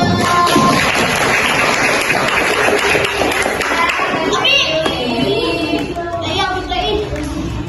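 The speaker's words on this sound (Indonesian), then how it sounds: "oke, tepuk tangan dulu." Loud applause from a group fills the first half, then fades into scattered claps while children chatter and call out nearby.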